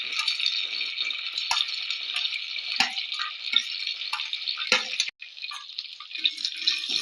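Fenugreek and curry leaves sauté with popping mustard seeds in a hot pan for a pomfret fish curry, a steady bright sizzle broken by scattered sharp crackles and pops.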